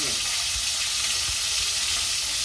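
Marinated fish fries in a pan, sending out a loud, dense sizzle with a few low stirring knocks underneath.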